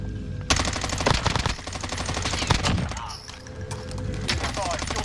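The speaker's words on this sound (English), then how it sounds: "That's me shooting you." Machine-gun fire in a Gulag match of an online shooter, long sustained bursts of rapid shots, loud and dense, with brief pauses and distant shots between, under occasional talk.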